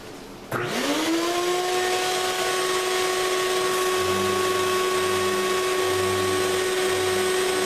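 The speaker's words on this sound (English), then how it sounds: "a little noisy with the vacuum cleaner on." A vacuum cleaner switches on and spins up to a loud, steady whine that runs continuously during sanding of high-build primer on a car body, with a lower intermittent hum joining partway through.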